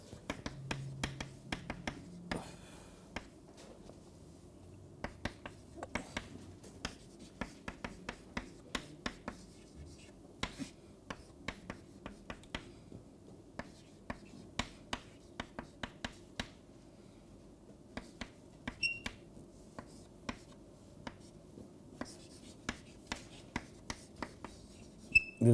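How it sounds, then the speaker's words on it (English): Pen or chalk strokes writing an equation by hand during a lecture on vehicle handling, heard as faint, irregular scratchy taps and short strokes in steady succession over a quiet background, with no talking. "So I'm going to write down the final equation."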